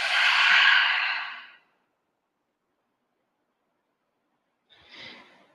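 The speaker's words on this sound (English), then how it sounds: "Open the mouth and exhale it out." A deep exhale pushed out through an open mouth during a morning yoga stretch, one long breathy sigh of about a second and a half, then silence and a fainter second breath near the end.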